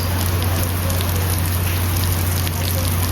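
Steady heavy rain pattering loudly on surfaces at Castaway Cay, a constant dense hiss with a low hum underneath.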